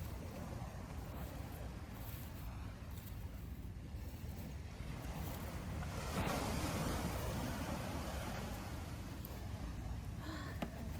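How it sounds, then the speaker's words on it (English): Waves wash on a distant shore at twilight, a faint, continuous rushing surf with wind, swelling slightly midway, with no talk. "It's quiet, even with the waves on the distant shore."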